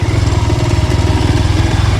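A Royal Enfield Scram 440 motorcycle engine running nearby with a loud, even, low-pitched thumping pulse, steady throughout.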